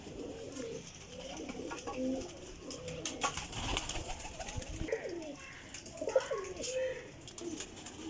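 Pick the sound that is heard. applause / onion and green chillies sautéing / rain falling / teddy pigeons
teddy pigeons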